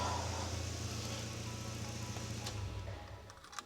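A car engine idles steadily after its first start in four years, a low even rumble with a faint ticking that tapers slightly near the end, a few small knocks at the close.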